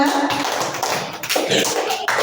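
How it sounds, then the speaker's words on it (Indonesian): Short burst of classroom applause for a student group, brisk close clapping from a room of students lasting only a couple of seconds. "Kasih tepuk tangan dulu untuk kelompok 3"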